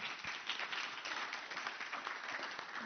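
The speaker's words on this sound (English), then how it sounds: "Je vous demande d'applaudir Pauline" Conference audience applause: a dense, even patter of many hands clapping continuously, heard from a distance and fairly faint.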